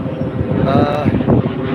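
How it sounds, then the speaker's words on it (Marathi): A loud, steady roar of an airplane passing overhead at Juhu Chowpatty beach in Mumbai, a rushing drone that fills the whole moment without letting up. "विमान गेला आपला विमान"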